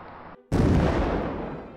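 A cartoon cannon, the Sneeple Cannon, fires once in a loud, close boom that cuts off a quieter passage and then fades slowly over about a second of rumbling decay.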